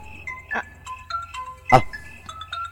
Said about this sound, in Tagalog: Oh, yan mo cellphone mo, tagri-ring.